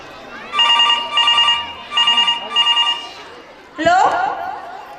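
A telephone ringing onstage during a school annual day play, repeated bursts of electronic trilling rings with short gaps, followed by a voice over faint audience chatter.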